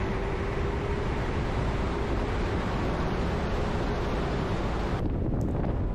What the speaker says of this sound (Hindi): दरिया कुनहार के पानी की आवाज़ मुसलसल आपके साथ रहती है